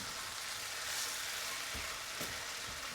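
Garlic and fresh ginger fry in a pan for an Indian butter chicken, giving a steady, close hiss of sizzling with a couple of soft stirring knocks and no voices.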